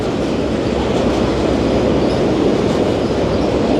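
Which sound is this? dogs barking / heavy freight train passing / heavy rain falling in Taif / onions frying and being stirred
heavy freight train passing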